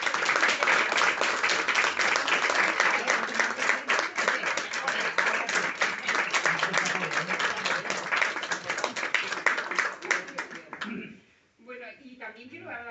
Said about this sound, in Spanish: Así que un fuerte aplauso para Eduardo Rodríguez